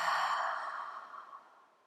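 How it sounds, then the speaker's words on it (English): A single long Ujjayi breath exhale during yoga, a soft oceanic hiss that starts close and full, then fades gradually over about two seconds. "We have our Ujjayi breath. It sounds like the ocean."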